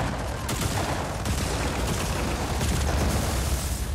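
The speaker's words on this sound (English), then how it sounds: "Oh, God, an airstrike." Airstrike explosions in the Just Cause 4 video game, a dense, loud rumble of blasts and gunfire-like bursts filling the whole stretch without pause.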